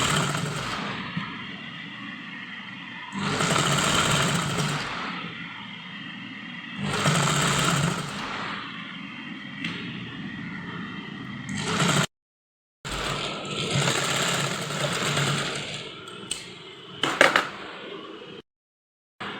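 A sewing machine runs long, large basting stitches along the back strip of a kurti, in several separate whirring bursts with short pauses between them and a few clicks near the end.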